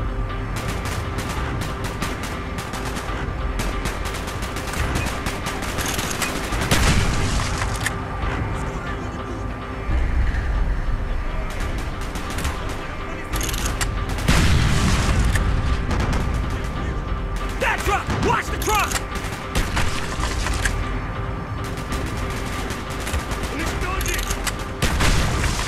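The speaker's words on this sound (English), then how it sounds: "Gunfire's drawing attention." Bursts of rapid gunfire and heavy booms fill a dense, continuous battle din in the video game Call of Duty: Black Ops, with voices shouting intermittently throughout.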